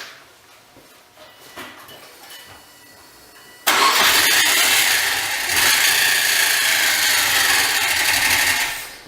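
A Subaru Forester engine running abnormally, first a quiet, uneven idle with scattered knocks, then a sudden loud surge into a sustained harsh rev with a rough, clattering roar that holds steady before easing off at the end.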